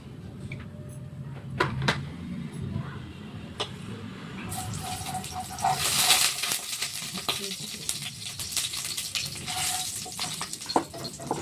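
Chopped onion hitting hot oil in a home kitchen pan, a broad hissing sizzle that swells around the middle and stays steady, with clinks of a utensil and soft background noise.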